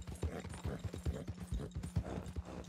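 Horse hooves clip-clopping in the video game Red Dead Redemption 2, a quick steady run of soft, muffled thuds at a brisk trotting rhythm, fairly quiet with a constant background hum.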